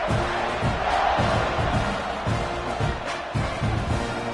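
Crowd noise from an American football video game swells steadily through a kickoff after a touchdown drive, a continuous roar with rhythmic surges, carried under commentary.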